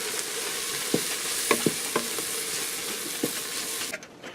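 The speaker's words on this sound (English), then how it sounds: "I'm going to continue frying this for just another minute." Paprika frying in a pot, with a constant hiss and sizzle broken by several sharp scrapes and clinks of stirring, close by.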